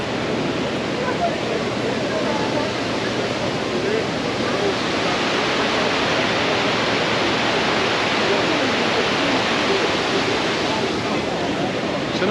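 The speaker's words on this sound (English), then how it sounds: "top of the waterfall" A waterfall in Krka National Park, Croatia, heard from near its top, gives off a loud, steady roar of rushing water that fills the whole clip.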